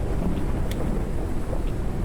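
Stormy weather ambience in the video game Forever Skies: a steady, dense low rumble of wind and storm noise fills the whole stretch at an even loudness, with a brief faint crackle partway through and no voices.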